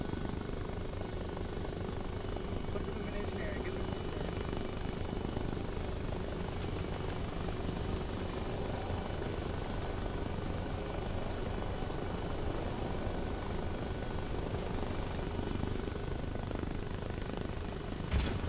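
A helicopter in the video game DayZ drones steadily and loudly throughout, with a continuous rotor and engine roar that never lets up.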